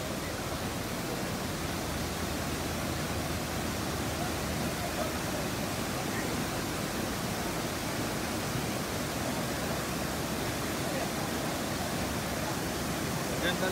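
Strong floodwater current surging through a deep stretch of a flooded residential area during Typhoon Ulysses, a steady, loud broadband rush that continues without a break the whole time.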